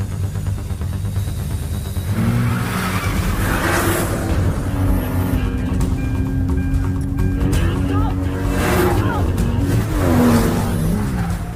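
Cars racing in a chase on an airport runway, engines revving and tires squealing with passing swells, mixed with speech over the whole stretch.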